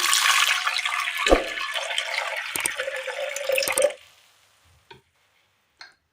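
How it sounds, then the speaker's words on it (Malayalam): Water poured into a pressure cooker holding jackfruit seeds, a loud gushing splash for about four seconds, then stopping, with a couple of faint drips or clinks afterward. "ഇതിലേക്ക് വെള്ളം ഒഴിച്ചു കൊടുക്കാം"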